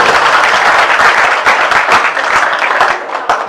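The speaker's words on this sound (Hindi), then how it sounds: "बजाओ ताली फिर" Outdoor crowd at a village political rally in Pihowa, Haryana, clapping loudly and steadily throughout, a dense continuous burst of applause with scattered sharper claps.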